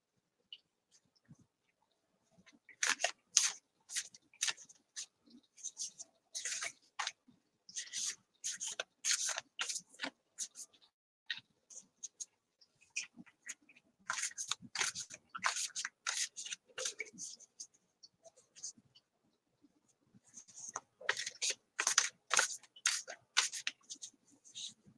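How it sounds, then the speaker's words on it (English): A deck of cards being shuffled in several bursts of crisp riffling and flicking, fairly close and quiet, separated by short silent gaps. "So let me shuffle one for Danielle."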